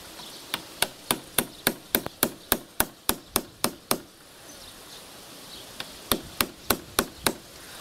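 Hammer blows ring out as a nail is driven through a metal clamp while repairing a swing, about a dozen sharp, evenly spaced strikes, a pause of roughly two seconds, then another short run of blows, close and loud with no talk.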